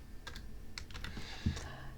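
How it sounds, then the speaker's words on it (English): Someone types on a computer keyboard in quiet, uneven bursts of light clicks, with one louder thump partway through. The keys sound close and there are no voices. "This is me sucking at typing."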